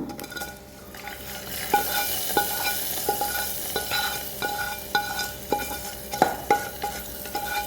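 Hot oil sizzles steadily as a fried spice tempering is stirred into a pot of Guruvayur-style rasakalan curry, with a few sharp clinks of a spoon against metal.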